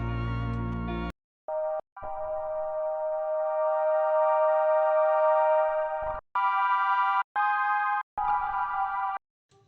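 A Prophet 6 analog synth plays sustained chord notes while its cutoff and resonance knobs are swept, a bright buzzy tone that holds, shifts, then breaks into short stabbed chords.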